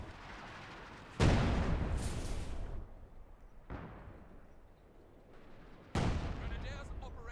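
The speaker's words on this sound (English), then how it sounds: "Light artillery barrage?" Light artillery shells from a barrage in the Company of Heroes 2 strategy game crash down as heavy booming blasts with rumbling decay, one loud impact near the start and another later, with softer rumble between.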